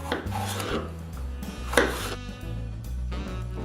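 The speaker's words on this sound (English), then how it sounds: "you're going to want to cut these into thin strips" A knife cuts meat into thin fajita strips on a board, giving rhythmic rasping strokes in several separate passes, close and fairly quiet, with no talking.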